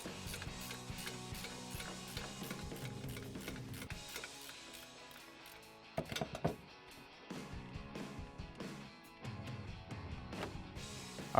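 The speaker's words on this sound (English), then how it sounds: "we're switching back over to our ratcheting wrench, and we're gonna work off the last 2 bolts." A ratcheting wrench working off the last two bolts during a front leveling kit install on a 2019-2020 RAM 1500 4WD, producing rapid close clicking runs with brief pauses and a few heavier metallic knocks, with no talk.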